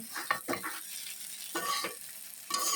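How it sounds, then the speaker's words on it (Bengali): Short scraping strokes of a utensil in a pan of frying bitter gourd come in a few quick bursts over a soft, faint sizzle. "আমি এখন করলা ভাজা নামিয়ে ফেলছি"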